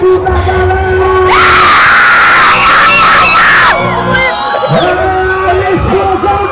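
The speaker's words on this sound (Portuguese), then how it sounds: "O grito da galera!" Spectators at a motorcycle stunt show scream and cheer in a loud, sustained burst lasting a few seconds, with an announcer talking excitedly before and after.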